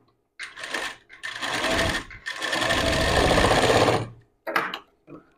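Sewing machine running in several bursts while stitching tucks on a blouse, a steady close whirring chatter with short pauses between runs and two brief final spurts.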